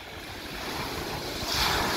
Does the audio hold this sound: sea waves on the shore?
yes